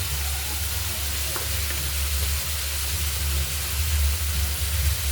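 Tomatoes sizzle steadily in a pan with fenugreek leaves, a continuous close hiss of frying with a low rumble underneath and no pauses.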